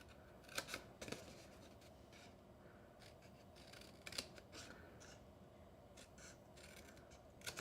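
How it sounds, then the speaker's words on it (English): Scissors snip through paper along scored lines while making a mini gift bag; a few sharp close cuts with faint rustling between them in a quiet room, no speech. "I'm just gonna cut up each of the vertical score lines, stopping at that first horizontal score line."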